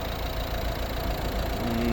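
A 2011 Volvo V60 with a 1.6 D2 Peugeot Citroën diesel engine idles steadily at close range, a continuous low rumble with a faint clattering texture and no talk.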